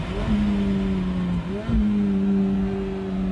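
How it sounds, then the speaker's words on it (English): A Ferrari 430 Spider sports car drives past with a steady engine drone, the pitch dipping briefly as it shifts gear and then holding again, heard close and without talk. "this is a car that's doing nearly 200 miles an hour. It's got 490 horsepower"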